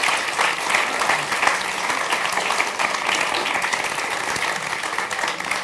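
Warm, steady audience applause for a panel at a political party conference debate, a loud continuous roar of many clapping hands filling the room without pause.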